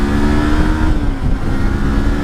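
A motorcycle engine holds steady throttle through a wet curve, giving a continuous mid-pitched drone with a slight dip in the middle, fairly close and alone.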